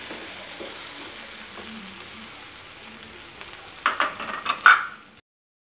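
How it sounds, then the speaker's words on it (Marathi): Tomatoes and onions for a cashew masala curry sauté in a pan with a soft, steady sizzle, then several louder scraping stirs near the end before the sound cuts off. "टोमॅटो चांगले मऊ होईपर्यंत आपण ह्याला परतून घेऊया"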